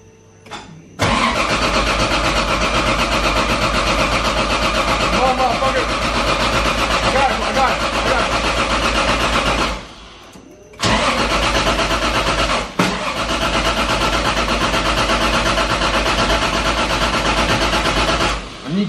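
Toyota 1JZ engine cranking over and over without catching, a loud continuous churning whir with two brief pauses between long bursts, heard up close with a voice speaking over it.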